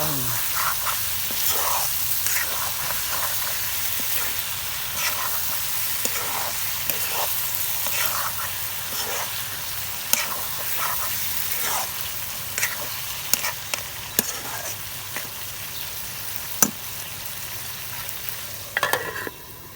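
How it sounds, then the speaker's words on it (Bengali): Chicken skin is sautéed in oil in a pan. A loud, steady sizzle is broken throughout by the scrape and clatter of stirring, which grows sharper toward the end. "মুরগির খাল কষান হচ্ছে"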